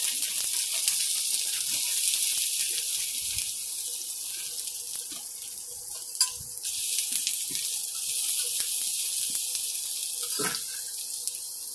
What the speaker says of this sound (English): We'll get some of these potatoes down in there.